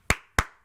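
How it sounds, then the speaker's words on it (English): An anime character from Fullmetal Alchemist Brotherhood claps his hands together: three sharp, close claps at an even pace, each followed by a brief ringing decay, with no other sound around them. "At first, it might just look like the main character is clapping his hands,"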